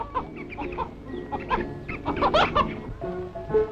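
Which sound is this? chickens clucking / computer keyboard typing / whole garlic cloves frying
chickens clucking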